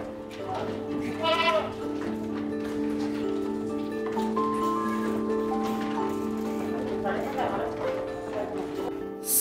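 Dairy goats on a goat farm bleat a few times, fairly close but mostly under someone talking steadily over a constant low hum.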